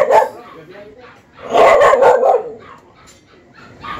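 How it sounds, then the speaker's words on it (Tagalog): A dog barks and yips close by in a few short bursts, with a louder flurry midway and quieter whimpering between. "may aso sila, si Max, oh."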